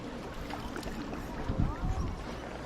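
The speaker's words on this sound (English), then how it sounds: "So here we are, kayaking Halong Bay." Kayak paddles dip and pull through the water on Ha Long Bay in Vietnam, with soft splashes and sloshing under light wind, while people talk nearby.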